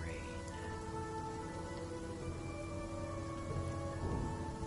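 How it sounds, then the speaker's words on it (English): Steady rain hisses through a video game scene, constant and moderately loud, with sustained musical tones layered over it and a hint of thunder rumbling low; no one speaks. "now I hear video game rain"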